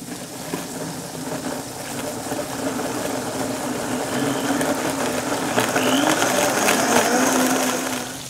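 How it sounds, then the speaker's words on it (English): A blender purees a thick chili mixture with minimal water for a coffee coloradita mole, a loud continuous motor whir that rises slightly in pitch and intensity as it runs. "use the blender."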